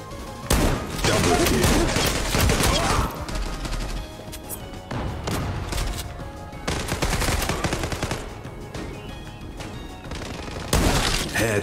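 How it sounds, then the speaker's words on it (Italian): Rapid bursts of automatic gunfire from the online shooter Zula Europe, with several loud volleys and short pauses between them, close and dense across the whole stretch. "Headshot, double kill."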